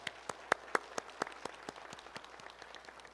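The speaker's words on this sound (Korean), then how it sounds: "하나님의 앞에 영광의 박수 돌리겠습니다" A small congregation claps at a church deaconess ordination service, with sharp distinct claps in a loose rhythm that thin out and soften within a few seconds.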